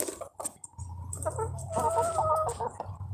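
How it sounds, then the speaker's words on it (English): Meat-bird chickens from a hatchery, a couple of weeks old and kept inside a farmhouse, cluck and chirp close by in a short, busy run of calls with a low hum underneath. "We raise the chickens in the house for a couple weeks until they feather out"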